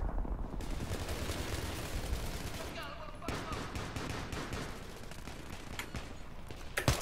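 Battlefield 3 gunfire, dense, with rapid bursts and sharp cracks packed through the whole stretch and a few louder isolated shots near the end, under a busy loud battle backdrop.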